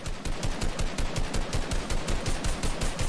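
Rapid automatic gunfire in the Fortnite video game, a steady stream of evenly spaced shots rattling on for several seconds, loud and close with no talking over it.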